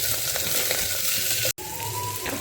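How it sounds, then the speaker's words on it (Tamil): Garlic and onion fry in a clay pot, giving a steady bright sizzle with occasional stirring scrapes, loud and close, briefly cut off by a gap before the frying resumes. "பூண்டு வெங்காயம் போடுறோம் நல்லா வதங்கணும்"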